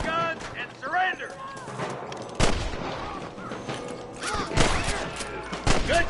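Gunshots crack in a Red Dead Redemption firefight at Pike Basin, several loud sharp reports scattered among creaks, mechanical clicks and voices speaking.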